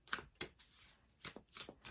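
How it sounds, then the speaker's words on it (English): A deck of Angels of Light tarot-style cards is shuffled by hand in quick, soft riffling bursts, close and quiet, with no voices. "I'm going to shuffle and I'll pull 3 cards."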